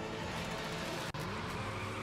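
A car engine drones steadily in the Mad Max video game, loud and continuous with a brief dropout in the middle and no talk over it.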